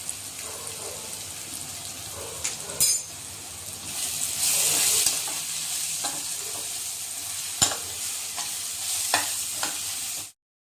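Turmeric and coriander powder hitting hot oil in a tempering for poha: continuous close sizzling and frying, with a few sharp metallic clinks and scrapes of stirring, then a sudden stop at the end.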